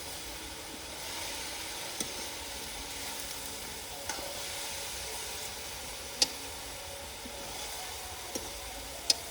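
Steady sizzling and frying of food roasting in a pan with cumin, salt, chilli and turmeric over a low flame, with occasional faint clicks of stirring.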